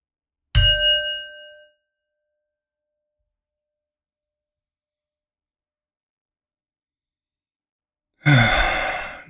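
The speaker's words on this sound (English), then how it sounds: "Let's begin with the bell." A single meditation bell is struck once and rings with a clear, sustained tone that decays over about a second, followed by long silence and then a soft breath or rustle near the end.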